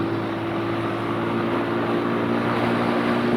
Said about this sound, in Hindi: इसका इंजन अपनी अब्यूज़ बर्दाश्त कर सकता है